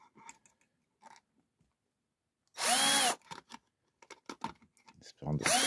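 Power drill unscrewing screws on an ARX540 RC car, a short close whirring burst of about half a second and a second burst at the end, with someone talking in between.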